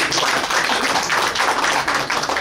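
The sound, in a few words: audience clapping for Pak Asmar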